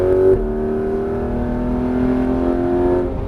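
A Porsche 991 GT3 RS with a PDK gearbox holds full throttle in fourth gear on the Alès circuit, its engine a loud, sustained, steadily rising howl with a brief lower note at the start.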